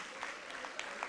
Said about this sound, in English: Round of applause, please, for Nova.